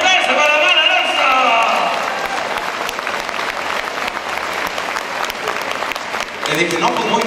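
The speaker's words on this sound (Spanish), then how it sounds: "Un aplauso para Omar Alonso" A live audience at a comedy show gives a comedian a loud round of applause, a dense wash of clapping that gradually thins out, with some voices mixed in.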